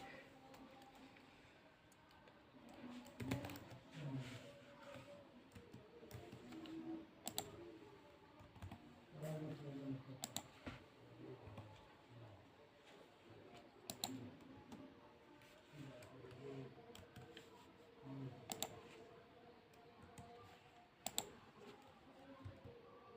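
Clicking keys on a computer keyboard while entering text on an office computer, a steady run of light taps that is faint and continuous over the whole stretch, with occasional louder strokes.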